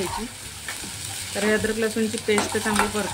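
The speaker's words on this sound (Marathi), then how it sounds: "तर हे अद्रक लसूणची पेस्ट चांगली परतून" Ginger garlic paste frying in a pan for patwadi rassa, a bright close sizzle with repeated stirring strokes that grow louder and busier in the second half.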